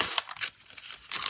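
Backing paper peeled off a home fabric print, giving quiet, close crinkling and tearing bursts at the start and end with a softer rustle between.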